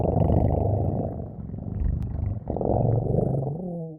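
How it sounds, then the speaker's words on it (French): A tiger's deep, rumbling purr heard close and loud as a sustained low growl-like vibration, part of a spoken children's illustrated story, ending with a brief rising tonal sound. "Ronronna Tigre"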